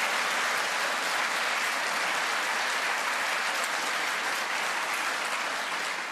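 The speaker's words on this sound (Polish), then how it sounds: "Wielkie więc... brawa." A large audience gives steady, continuous applause at a speedway season event, a dense hiss of clapping that holds at an even level throughout.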